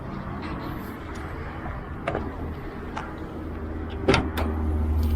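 Clicks and clunks of a Subaru STI's hood latch being released and the hood lifted, over a steady engine hum, ending in a firmer metallic thunk.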